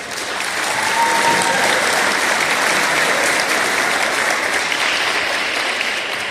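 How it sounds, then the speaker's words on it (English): Steady, dense applause from an audience at a volleyball senior night, filling the room and holding at an even level for several seconds. "So that in itself is worth a round of applause."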